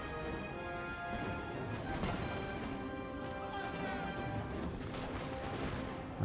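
Artillery batteries firing in a Napoleonic-era battle in Napoleon Total War, repeated cannon booms and impacts over a steady din of battle and music, heard faintly and continuously.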